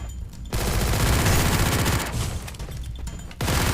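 Gunfire in the video game Free Fire rattles in dense rapid bursts, loud and close, with two short pauses between volleys and no talking.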